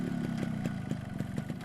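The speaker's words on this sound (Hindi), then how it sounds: "करण ने अपनी बाइक स्टार्ट की और फुर्र से उड़ गया।" A motorcycle engine chugs with a rapid, even putter, a short run of rhythmic pulses at moderate volume with no voices.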